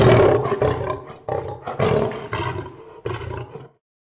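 A lion roars in a series of loud, close, throaty bursts, several deep rumbling roars in rhythmic succession with short pauses between, ending abruptly.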